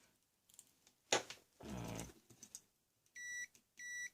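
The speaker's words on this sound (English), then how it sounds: "So it should beep if the lead's touched" Two steady electronic beeps from a multimeter continuity test, high-pitched and evenly sustained, sounding one after another after some faint handling clicks and a short burst of noise.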